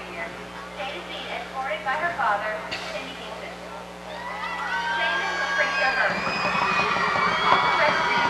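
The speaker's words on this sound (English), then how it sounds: "Aquinas brought a pretty good little crowd" High school football crowd in the stands at the LC vs Aquinas game, a broad wash of cheering and shouting that swells louder in the second half, with commentators talking over it.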